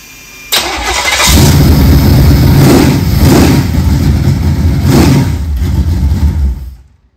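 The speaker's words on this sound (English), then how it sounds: "It's just a box stock 350 on this engine stand." A box stock 350 engine on an engine stand cranks and fires up, then runs loud and close with a few throttle blips rising and falling before shutting off into silence.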